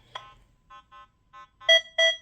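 Nokta Legend metal detector sounding over iron in the ground, a series of short tonal beeps and grunts of varying length, the last two louder and higher, close and alone.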